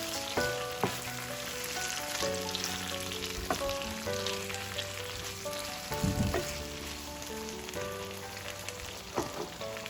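Mushroom chili with ketchup sizzles in a pan while it is stirred, a steady frying crackle with occasional scraping and clinking of a spoon against the pan.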